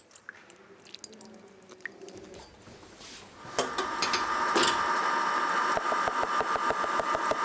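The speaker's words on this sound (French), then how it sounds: "Nous allons donc commencer par monter en première étape les blancs d'œuf." An electric mixer whips egg whites with sugar, starting up after some quiet handling into a loud, steady whir with a rhythmic beating pulse as the whisk turns in the bowl.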